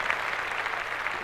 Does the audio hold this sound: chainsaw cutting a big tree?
no